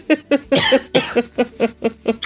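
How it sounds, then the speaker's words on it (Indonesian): A person coughs repeatedly in a rapid series of about ten short, close, harsh bursts. "gue batuk mulu ya kalau ngobrol sama lu ya"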